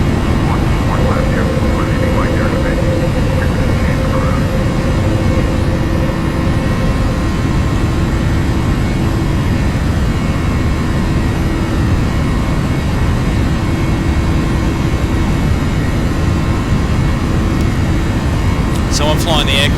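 Boeing 737 NGX jet engines climbing after takeoff in the PMDG flight simulator, a steady loud broadband roar with a low rumble sustained throughout, with faint tonal whines layered on top.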